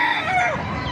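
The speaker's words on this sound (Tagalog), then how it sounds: "Ayan po yung mga manok." A rooster crows close by at a chicken market in Baliuag, Bulacan, a loud strained call with a wavering pitch, lasting about a second.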